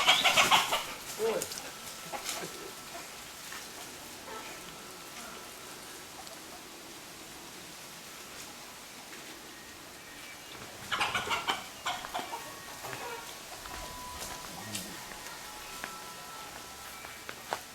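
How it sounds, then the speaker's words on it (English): Chickens cluck in short bursts near the start and again later, separated by a long stretch of quiet outdoor farm ambience. "The only noise is the chickens, really."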